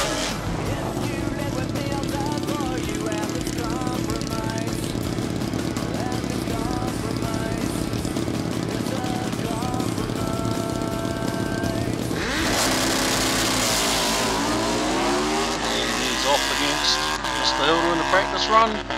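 Harley Destroyer drag motorcycle engine warming up at a drag racing event, a steady loud rumble that shifts into a harsher, brighter revving roar partway through amid track ambience and crowd noise.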